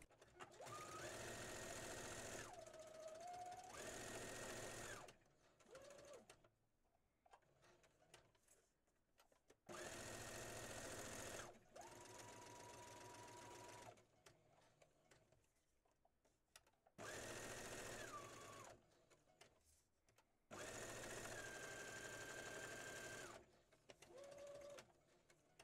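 A sewing machine runs a straight stitch through a junk journal's watercolor flower pockets, in several steady whirring runs of a few seconds each with brief quiet pauses between them.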